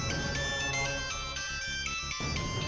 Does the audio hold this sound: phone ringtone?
yes